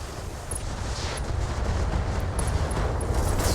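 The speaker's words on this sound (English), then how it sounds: "That's an explosion, alright." Explosion in the Battletech video game, where inferno bombs and missiles strike mechs, heard as a dense, rumbling low roar that swells and stays loud across the stretch with crackling debris on top.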